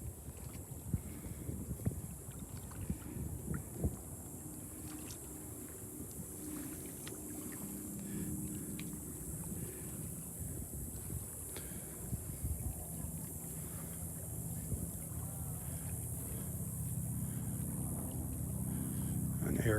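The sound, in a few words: boats passing near beach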